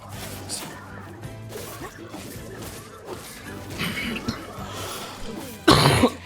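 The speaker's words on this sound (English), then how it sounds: "I'm so sorry about the coughing" A streamer coughs several times close to the microphone, rough bursts spread through the stretch with a sharp loud one near the end, alongside game sounds and some speech.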